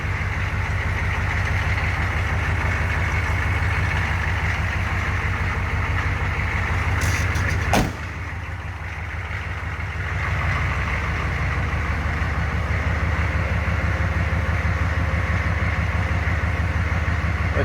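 A 1984 Chevrolet K20 pickup engine idles steadily and close by, a deep, rough, even rumble throughout, with one sharp click or knock near the middle.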